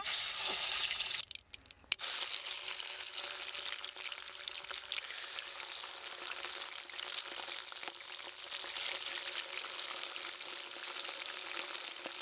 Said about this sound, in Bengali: সেম ভাবে আমি বাকি মাছগুলো ভেজে নেব।